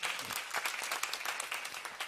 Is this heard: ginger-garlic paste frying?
no